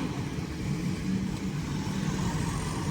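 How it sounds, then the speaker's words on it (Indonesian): A Mitsubishi Canter truck sits at a railway crossing with its engine rumbling steadily and close by, a low continuous drone of traffic noise with no talking. "itu truknya kenapa itu Mitsubishi Canter hampir maju mundur juga ini"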